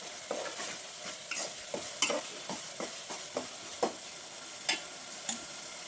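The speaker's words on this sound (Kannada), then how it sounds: "ಗ್ರೀನ್ ಚಿಲ್ಲಿ ಪೇಸ್ಟ್ ಹಾಕಿ ಇವಾಗ ಅದು ಹಸಿ ವಾಸನೆ ಹೋಗೋ ತನಕ ಸ್ವಲ್ಪ ಫ್ರೈ ಮಾಡಿ" Green chilli paste fries with onion in a pan while a spoon scrapes and taps the pan in irregular strokes, a soft sizzle beneath the close, sharp clicks and no talk.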